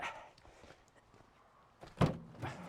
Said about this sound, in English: I'm going to come round with her for a second just to open up these doors because it's easier from the rear